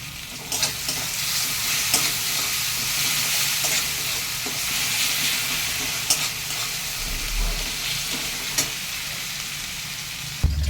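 Small mourala fish frying with brinjal in a pan, a loud continuous hiss of hot oil with occasional sharp crackles and stirring clicks throughout.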